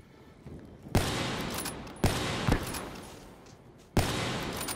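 Gunfire from the video game Black Ops III: three loud, sharp bursts about a second apart, each a sudden onset followed by a sustained roaring decay, close and dominant with no talk.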